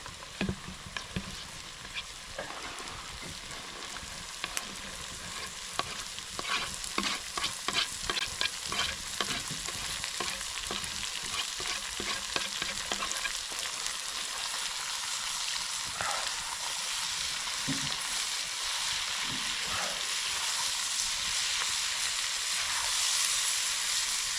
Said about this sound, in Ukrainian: Морковка вже піджарена гарненько, тепер кидаємо цибулю до моркви.